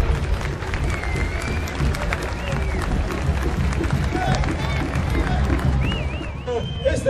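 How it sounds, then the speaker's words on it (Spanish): A carnival crowd applauds in a thick, sustained wash of clapping mixed with crowd noise and a few whistles, while someone talks over it. "El aplauso fuerte a esta representación"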